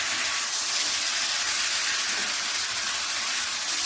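Green chilies go whole into a pan of frying chili potatoes, giving a steady, loud hiss of sizzling oil that holds evenly throughout with no talking.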